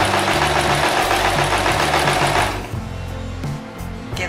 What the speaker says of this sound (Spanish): cuando nosotros encendemos la máquina, lo que hacen los dientes y el prensatela es hacer que la tela avance.